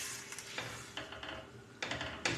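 Pancit noodles being cooked in a pan, with quiet sizzling and scraping stirs coming in short bursts, a few utensil clinks against the pan, fairly faint and close, no talking.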